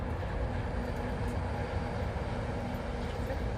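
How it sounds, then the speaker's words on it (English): A teal monorail at Walt Disney World rolls past on its elevated beam in the morning, a steady low rumble and hum that stays even and fairly loud throughout, with no talk over it. "oh, we got a teal monorail. That's like our third monorail already in the morning."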